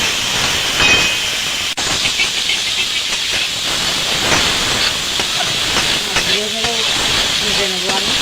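Turmeric- and salt-coated fish fry in hot oil in a kadai, giving a loud, steady sizzling hiss close up throughout, with occasional crackles and a brief faint voice near the end.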